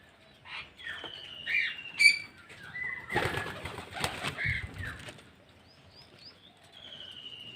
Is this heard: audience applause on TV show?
no